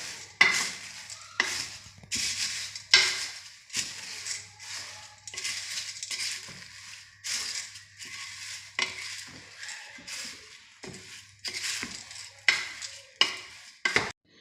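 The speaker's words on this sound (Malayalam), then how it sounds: "ഇനി നമുക്ക് ഇത് നന്നായി ഇളക്കി ചേർക്കാം" Repeated scraping strokes of a spoon stirring a thick jaggery syrup mixture in a pan, an irregular rhythm of close, sticky scrapes with brief pauses.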